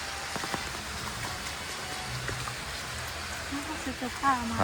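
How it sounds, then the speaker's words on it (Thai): Steady rain falls on a rural Thai homestead, a constant hiss of drops on surfaces close by, with a few brief voices and faint background sounds breaking through near the end. "เบิ่งบรรยากาศยามฝนตก"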